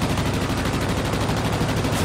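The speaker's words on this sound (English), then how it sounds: "Who's shooting me?" Dense, continuous rapid gunfire from aircraft guns in the PC game World of Warplanes during a dogfight, loud and steady with no break across the short stretch.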